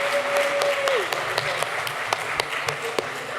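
Audience applause for a band at an outdoor community block party, a moderate, even wash of clapping with a few sharper individual claps standing out, and crowd voices mixed underneath.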